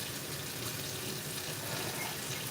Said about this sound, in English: I'm going to use white distilled vinegar to just give my meat a quick rinse